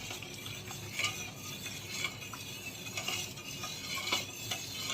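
Steady scraping and soft clinking of a spoon stirring milk in a metal pot, continuous and close, with no voices.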